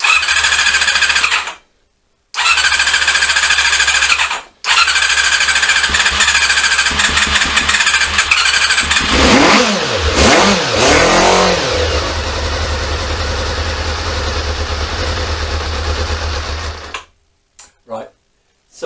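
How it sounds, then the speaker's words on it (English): A Honda CB-1 (NC27) motorcycle with starting problems, a drop of petrol in each carb, cranks in short bursts, then catches and runs with a loud, rapid staccato idle and throttle blips before shutting off. "put a tiny drop of petrol in each carb, gave it quite a bit of throttle, and as you can see it starts"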